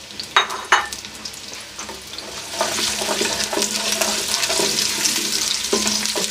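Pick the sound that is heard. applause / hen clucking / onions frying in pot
onions frying in pot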